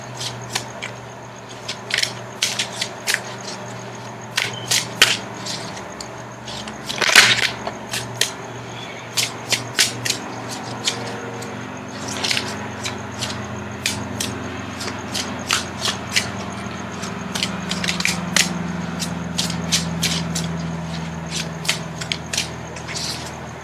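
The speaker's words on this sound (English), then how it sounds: "Now I'm going to shuffle for the outcome card." Tarot cards being shuffled by hand, a steady run of crisp riffling snaps and soft flutters close by, with one louder slap partway through and quiet room hum underneath.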